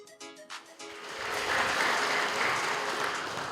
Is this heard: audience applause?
yes